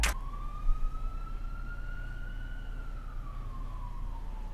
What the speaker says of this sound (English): I swear, there's always sirens going around my house.